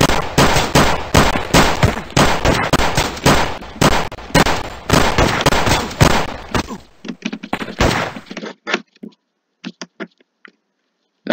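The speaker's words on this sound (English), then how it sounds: "That was a shootout. Those bullets were flying everywhere." Rapid gunfire rattles through a shootout in the video game Gun Mayhem 2, with loud dense bursts that thin out into scattered single shots and then go quiet.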